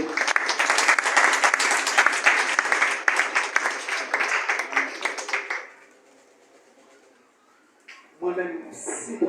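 Applause from a church congregation, dense sustained clapping that fills the room for several seconds before cutting off into a near-silent pause, then a brief burst of noise returns.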